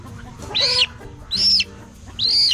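Rooster, a partly bantam crossbreed, gives three short, separate calls at close range, spaced evenly with quiet pauses between them.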